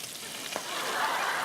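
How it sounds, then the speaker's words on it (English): Bacon frying in an iron skillet gives off a steady, close sizzle with a broadband crackle that swells slightly toward the end; no one speaks over it. "by the time I came back, Oprah was already frying the bacon."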